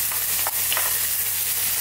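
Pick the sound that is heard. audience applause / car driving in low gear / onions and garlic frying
onions and garlic frying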